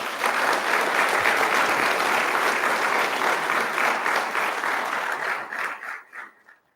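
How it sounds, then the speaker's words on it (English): Dense applause from a graduation ceremony audience, loud and steady, then thinning into scattered last claps before fading out. "Please give him a round of applause."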